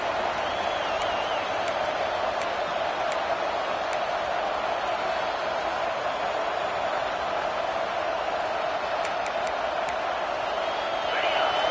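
Home crowd in a football video game roars steadily throughout as a continuous dense wash of noise, with faint ticking clicks scattered above it and no distinct bursts.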